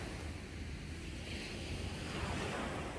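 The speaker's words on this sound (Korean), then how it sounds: "파도 소리" Ocean waves wash ashore at Haeundae beach in Busan at night, a continuous broad rush of surf with gentle swells, mixed with wind buffeting the microphone and no voices.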